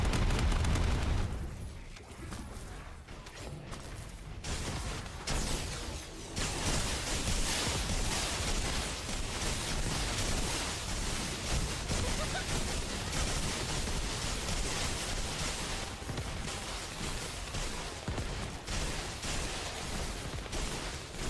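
Sustained barrage of suppressing gunfire from air support in the shooter game The First Descendant, a dense rumbling wall of shots and blasts that runs steadily for the whole stretch after a brief opening burst.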